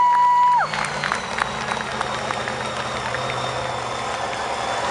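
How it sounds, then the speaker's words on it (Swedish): Applause from a crowd at a fullsize monster truck race event, a steady broadband wash of clapping after a short tone at the start, with the low rumble of a heavy truck engine idling underneath. "stor applåd till Putte här"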